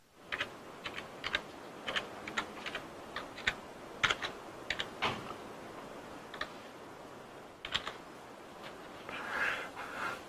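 Computer keyboard typing a file name during a web development lecture, a run of close, quick key taps with brief pauses and uneven rhythm over faint room noise, with no voices.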